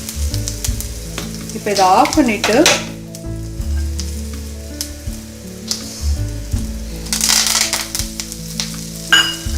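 Mustard seeds and cumin crackle and sizzle in hot oil, steady and close, with a voice speaking briefly over the frying.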